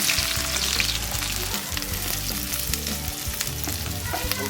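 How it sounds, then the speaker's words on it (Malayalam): Shallots split lengthwise sauté in hot oil in a pan for a Kozhikode-style prawn roast, a loud, dense crackling sizzle with periodic stirring scrapes, close up and continuous. "ചൂടായി കഴിയുമ്പോൾ അതിനകത്ത് സവാള വാട്ടുക"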